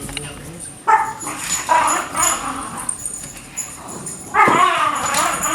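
Dogs bark and yip indoors in a house with three dogs, sharp bursts coming at irregular moments over household noise and people talking.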